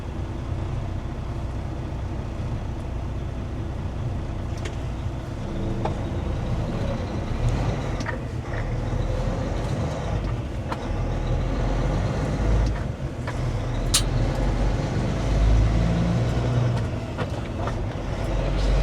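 Road traffic on Brookton Highway, where vehicles including trucks pass in a continuous low roar that swells and fades as each one goes by, heard from nearby without speech.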